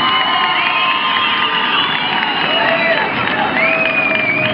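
Crowd cheering and shouting at a Reina de Quito beauty pageant held in Madrid, a steady loud wash of whoops and voices with no break, the crowd sound filling the whole stretch.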